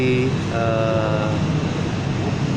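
A light rail train in South Sumatra, Indonesia, rolls past during a trial run with a steady rumbling roar and a brief high tonal whine, continuous and fairly loud throughout.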